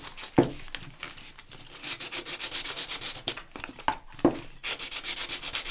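Sandpaper rubbing along the painted edges of a wooden candle holder to distress it, giving steady close scratchy strokes with a few sharper scrapes, quiet and with no talk.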